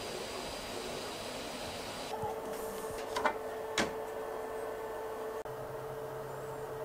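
An Anycubic Kobra Neo 3D printer prints a handle through a 0.8 mm nozzle, giving a steady low mechanical hum with soft stepper whines, a few light clicks and a brief louder tone, all at even volume with no voices.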